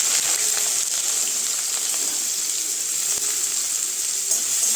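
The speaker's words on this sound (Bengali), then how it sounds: "তেলটা গরম হয়ে গিয়েছে, এর মধ্যে এখন দিয়ে দিয়েছি আমি কেটে রাখা পেঁয়াজগুলো" Chopped onions frying in hot mustard oil in a kadai, a steady soft hiss of sizzling that runs evenly throughout, close and moderately loud, with no voices.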